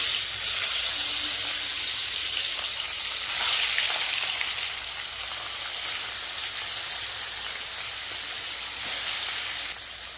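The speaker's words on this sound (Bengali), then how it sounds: "এবার মাছগুলো ভেজে নেবো" Puti fish fry in hot oil in a pan, giving a constant loud hiss and sizzle heard up close, with a few brief surges, and no talking.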